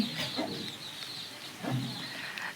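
Young chicks kept at a family home cheep in thin, high, repeated peeps across the whole stretch, fairly near but soft, with a few brief clucking sounds mixed in.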